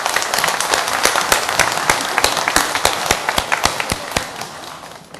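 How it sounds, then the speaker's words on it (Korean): Applause from a church congregation during a Sunday service, dense continuous clapping with sharp individual claps standing out, steady and loud for the whole stretch before fading slightly at the end. "우리 하나님께 영광의 박수 올리겠습니다"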